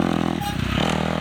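Motocross dirt bike ridden through a rut during an intermediate practice, a loud steady engine drone with a brief dip and rumble as the bike hits the rut, then the engine roars back.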